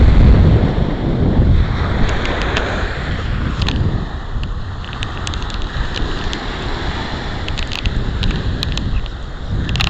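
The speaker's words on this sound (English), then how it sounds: "the waves are coming in like crazy" Ocean waves roll onto Fort Lauderdale Beach in a continuous churning wash, with heavy wind buffeting the microphone and loud, close roaring noise throughout.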